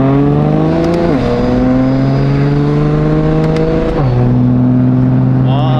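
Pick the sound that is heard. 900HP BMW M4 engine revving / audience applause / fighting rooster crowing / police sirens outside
900HP BMW M4 engine revving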